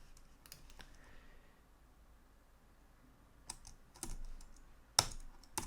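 Code is typed on a computer keyboard in a quiet room: faint scattered key clicks, with a few sharper, louder strokes near the end.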